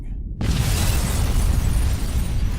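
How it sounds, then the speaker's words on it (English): A massive bomb blast tears through a Paris hotel in Metal Gear Solid 2, bursting in suddenly after a brief quiet moment and then roaring on as a loud, sustained rumble with no voices. "The Paris hotel bombing."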